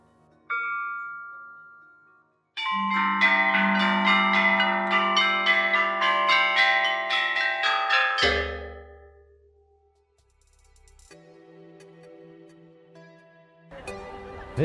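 Ancient Chinese bronze chime bells, nearly 2,500 years old, are struck in a sequence of bright, ringing tones that overlap and sustain, then decay, followed by a few fainter, separate strikes.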